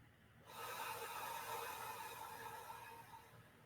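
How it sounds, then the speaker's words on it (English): A slow, steady inhalation through the nose during a guided relaxation exercise, a soft airy hiss that starts abruptly and holds for about three seconds, close and quiet, with no talking. "Again, breathing in,"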